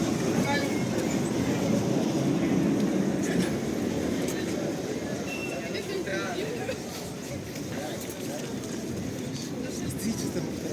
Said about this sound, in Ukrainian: Трамвайчик номер два.